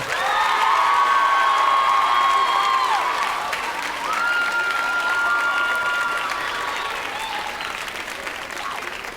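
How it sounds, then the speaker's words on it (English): Loud sustained applause with cheering and whoops from the audience at an 8th grade recognition ceremony, honoring the parents, filling the whole stretch with a brief dip midway. "a real loud round of applause for your parents because they're always there for you"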